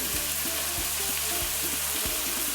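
Onion, green chilli and tomato frying in hot oil produce a dense, constant sizzle, with several rhythmic knocks of a ladle against the pan close by and no speech.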